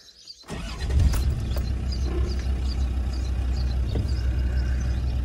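A Land Rover Discovery 2 TD5 diesel engine cranks and fires after a brief silence, then settles into a steady, loud, rumbling idle close by.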